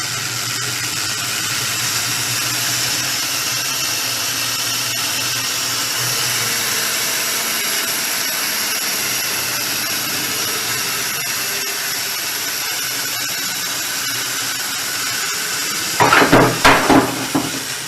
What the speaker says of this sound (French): Alors je fais tourner mes deux aimants. Le premier fait tourner le deuxième.